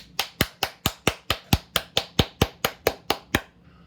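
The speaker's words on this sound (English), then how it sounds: "Everybody clap your hands." Fourteen crisp, evenly spaced hand claps in a quick steady rhythm, close and alone with no voices, ending in a short quiet tail.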